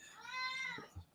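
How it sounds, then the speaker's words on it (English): A house cat gives one drawn-out, tonal meow that rises and falls, close to the listener and clear, followed by a soft brief rustle. "this cat, he starts talking to me every time we do a session"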